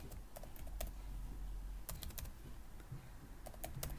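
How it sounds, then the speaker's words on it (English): Soft, quick keyboard typing in short bursts of clicks, faint and close, over a quiet room hum. "now here we can easily go and start typing the name"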